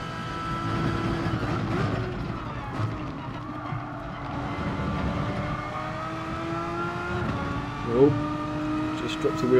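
Race car engines in the Gran Turismo Sport video game drone and climb in pitch as a car pulls out of a slipstream, with someone talking over the steady game audio.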